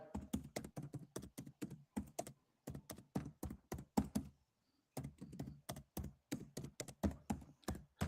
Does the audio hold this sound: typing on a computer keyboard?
yes